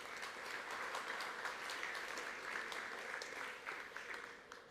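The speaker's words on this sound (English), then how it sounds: "Can we have a round of applause for the AutoTalk team?" Sustained applause from a conference audience gathered in a brewery, steady dense clapping that holds for several seconds before easing slightly at the end, heard from within the room.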